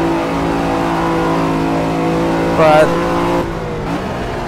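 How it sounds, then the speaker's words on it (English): A Lamborghini Diablo VT in an Assetto Corsa race carries a Countach engine sound, a loud, steady drone with a brief rev climbing in pitch. Someone talks over it. "The Countach sounds work pretty well for this car"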